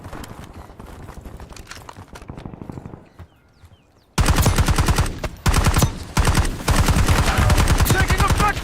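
Sustained automatic machine gun fire in a first-person shooter video game, rapid dense bursts, loud and close, starting quieter and then erupting into heavy continuous volleys with brief gaps.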